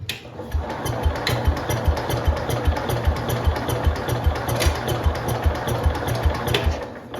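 A 1971 IH Cub Cadet 126 garden tractor engine chugs in a fast, steady pulsing rhythm close by for several seconds, loud and mechanical with a constant low throb and no voices over it.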